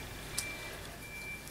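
Steady, high-pitched reversing beeps from a truck at a nearby construction site, continuous and somewhat distant, over a low background rumble.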